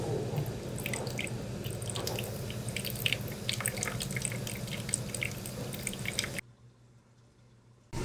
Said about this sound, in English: Now we'll just pour in distilled water until we see it starting to come up the top